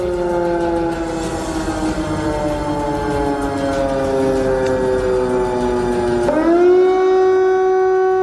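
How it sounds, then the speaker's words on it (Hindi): A loud, steady wailing air-raid warning siren in wartime Ukraine with stacked tones holds one long sustained note, then its pitch dips briefly and rises into a higher, stronger tone. "ये तस्वीर और ये सायरन आप सुनिए, दहशत वाला सायरन है जो आपको सुनवा रहे हैं।"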